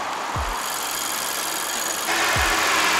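Steady idle of a 2022 Honda HR-V's 1.5-litre turbocharged engine, a close, even hum with faint low thumps, getting slightly louder near the end.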